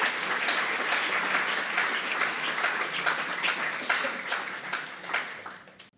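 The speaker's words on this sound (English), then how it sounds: "Could I get a round of applause for the panellists" Audience members at a Yom HaShoah remembrance event applaud the panellists, a soft, distant-sounding wash of clapping that thins and fades out by the end.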